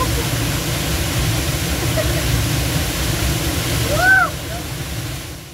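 Waterfall on the Visapur Fort trek during the monsoon, a steady broadband rush of falling water that holds even throughout, with a brief chirp of a bird near the end.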